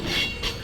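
A train rolls past close by, with a metallic rumble, clattering wheels and bright squeals that rise and fall within a brief moment.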